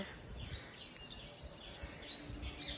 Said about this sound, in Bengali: খুব সুন্দর পাখি ডাকছে।